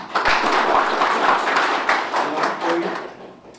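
An audience applauds at a parliamentary forum, a dense burst of many hands clapping together that swells and then tapers off over a few seconds, heard close and alone.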